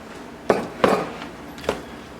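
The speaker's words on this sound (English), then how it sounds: "I'm going to go ahead and add in the egg" An egg is added to a bowl of mayonnaise mixture, giving three distinct close knocks and clinks against the bowl, spaced apart over a quiet background with no talking.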